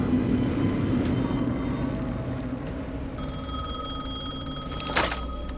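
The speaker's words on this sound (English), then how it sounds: "The phone again." A telephone rings inside the Alan Wake 2 video game, its tones sounding steady over a low ambient drone with no talking.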